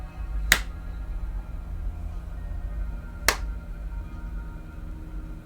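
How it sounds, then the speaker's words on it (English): Two sharp, isolated hand claps a few seconds apart, close and crisp over a low background hum in a quiet room. "let me do a quick clap test"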